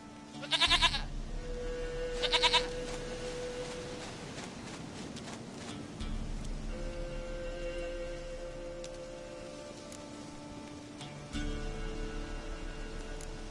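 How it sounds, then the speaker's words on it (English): A goat bleats in The Witcher 3 video game, two short close bleats early on over an ambient game soundscape with music swells. "Goat of mine, dearest, sweetest goat."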